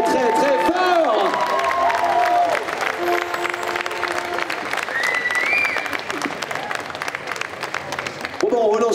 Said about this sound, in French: on peut t'applaudir très très très très très fort